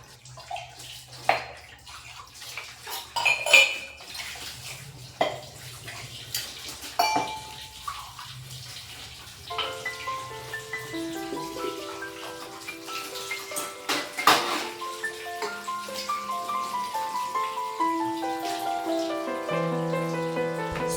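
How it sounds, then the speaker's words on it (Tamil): Dishes and vessels are washed at a kitchen sink, first with scattered clinks and knocks, then running tap water and clattering pots and pans close by, with no voices. "அப்போ சேர்ந்துருக்க வெசல்ஸ் எல்லாமே கம்ப்ளீட்டாக வாஷ் பண்ணிவிடுவேன்"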